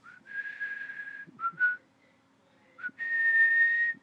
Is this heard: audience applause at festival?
no